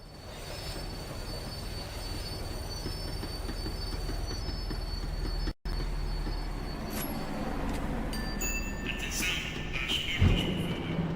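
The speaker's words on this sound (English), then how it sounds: "The tram was slowing down, and I'd only just gotten on board." A tram slowing down: a continuous rumbling ride with shrill, high wheel squeals building toward the end, heard from on board and close.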